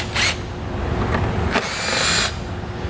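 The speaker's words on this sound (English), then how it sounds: "We're going to have 2 T15 Torx head screws we need to remove." A powered driver removes two T15 Torx head screws from a light on a vehicle while fitting a Roadmaster accessory kit for a Falcon tow bar, giving short bursts of whirring close by, with no talk.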